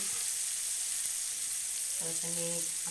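Chopped tomatoes hitting a hot frying pan for kande pohe, giving a steady broadband sizzle that fills the short clip, with a brief tonal murmur of a voice near the end.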